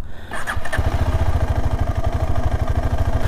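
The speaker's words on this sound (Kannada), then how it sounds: "ಇವಾಗ ಸ್ಟಾರ್ಟ್ ಮಾಡುವಾಗಲೇ ಇಂಜಿನೆಲ್ಲ ಅದ್ರದ್ದು ಕಂಪ್ಲೀಟ್ ಸೌಂಡ್ ಏನೋ ಚೇಂಜ್ ಆಗಿದೆ" A motorcycle engine low on engine oil starts and settles into a loud, close, steady rapid thumping, with a rough, uneven clatter riding over the beat.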